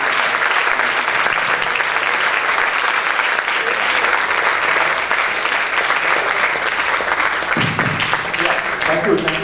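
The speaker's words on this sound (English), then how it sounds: "Let's do a break round of applause." Sustained applause from a large audience at a campus event, dense and steady clapping at close range for the full length, with a few voices faintly mixed in near the end.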